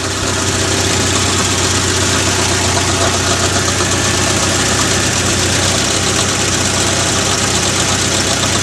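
A 1984 Nissan 200SX engine runs steadily after start-up, a continuous close idle with a faint ticking, knocking texture throughout and no talking.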